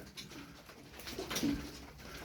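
Soft pigeon cooing, from Turkish tumbler pigeons, rises briefly in the middle of a steady, noisy background, with a low murmuring coo and some faint chatter around it.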